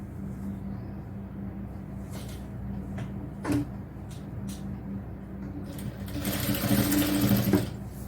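Electric sewing machine stitching the side seam of a cotton top, running at a soft steady hum at first with a few clicks and fabric handling, then speeding up into a louder whirring burst near the end.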